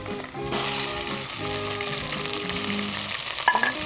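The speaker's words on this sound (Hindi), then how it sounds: "अब हम इसके अंदर चिकन डालेंगे।" Chicken frying in hot oil with ginger and garlic for a shinwari murgh karahi, a steady loud sizzle with crackling throughout and a few sharper pops near the end, no talking.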